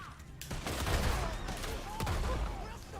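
Sawed-off shotgun blasts ring out in Red Dead Online, several loud sharp bursts spread unevenly across the span with game noise around them.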